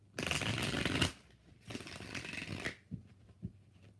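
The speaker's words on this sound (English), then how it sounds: "5 shuffles. We're going to use the cartoon deck." Tarot cards shuffled in two long riffling bursts, the second following a short pause, then a couple of soft taps as the deck settles, close and clear with no talking.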